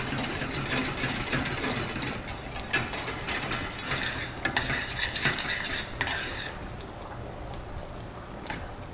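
Mashed purée being stirred with a drizzle of extra virgin olive oil until it thickens, a steady scraping and clicking of a utensil against the pot, close and fairly loud, with no talking.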